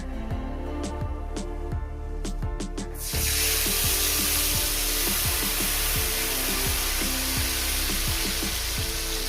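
Spice paste for a mustard-poppy pabda fish curry hits hot oil in a pan with nigella seeds, erupting into a loud, steady sizzle after a few seconds of light clinks and stirring.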